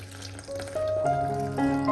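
Tap water runs into a large bowl of eggplant slices, a short bright stream whose pitch rises steadily as the bowl fills.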